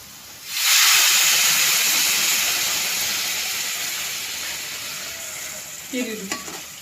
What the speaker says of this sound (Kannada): ನಾನು ಇದಕ್ಕೆ ಸ್ವಲ್ಪ ನೀರನ್ನ ಸೇರಿಸ್ಕೊತಾ ಇದ್ದೀನಿ